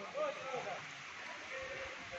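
Steady broadband rushing of a mountain waterfall in Meghalaya fills the scene continuously, with a faint voice briefly audible early on.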